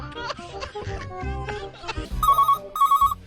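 A telephone in a Kabyle film rings twice in short, bright electronic bursts near the end, after a stretch of people talking and laughing.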